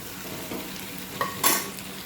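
Lemon pickle is stirred in a pan over medium heat, with soft sizzling under a few brief scraping strokes and one sharper clatter, close and fairly quiet, with no talk.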